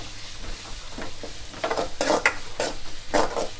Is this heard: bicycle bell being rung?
no